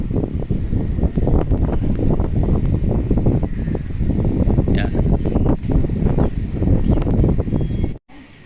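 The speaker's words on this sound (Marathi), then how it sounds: "पाचव्या माझ्यावर असल्यामुळं जरा वारा जास्त लागते वर" Wind buffets the microphone on a high fifth-floor rooftop in Miraj under clear, sunny skies, a loud, continuous rushing roar with gusty swells that drops away abruptly near the end.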